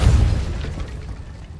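Repulso blast spell in Hogwarts Legacy: a single close, heavy low boom that hits at once and fades quickly into a short rumbling tail.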